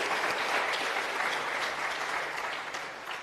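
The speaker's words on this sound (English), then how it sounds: "A round of applause." An audience at a youth empowerment week session breaks into warm applause, a dense, even wash of clapping that starts strong and gradually tapers off toward the end.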